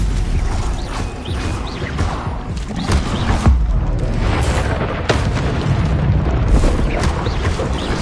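Stupefy spell effects in Hogwarts Legacy: loud, dense combat bursts and booming impacts with creaking, mechanical layers, arriving in quick repeated hits over a constant thick rumble.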